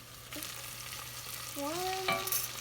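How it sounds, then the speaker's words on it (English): Onions and flour stirred in a hot pan, a soft continuous sizzle of frying with a scrape of the spoon now and then, close and alone without talk. "2 tablespoons of flour."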